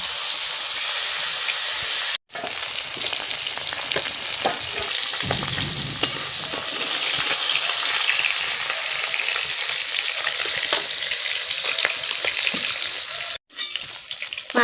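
Constant loud sizzling and hissing of rohu fish frying in hot oil over a wood fire, with occasional stirring scrapes and crackles, steady throughout with two brief dropouts.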